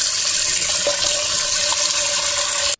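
Rice grains are washed in water, giving loud, continuous splashing and rushing water close by that stops abruptly at the end.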